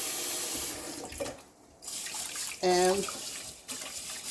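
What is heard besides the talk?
cold tap water running for rinsing rice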